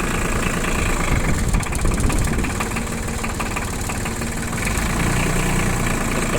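A four-wheel-drive mini tractor engine runs steadily at idle, a loud continuous rumbling drone with faint knocking vibration throughout, heard close and alone without talk.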